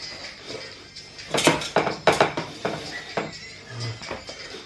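Pulled pork is split between two bowls, with a series of close clinks and scrapes of a utensil against dishes, several sharp knocks in uneven rhythm at moderate volume, and no talking.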